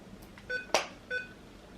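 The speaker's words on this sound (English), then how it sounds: "Wait for the beep." Two short electronic beeps from a charging laptop, about half a second apart, with a brief clack between them; faint and tonal against quiet background.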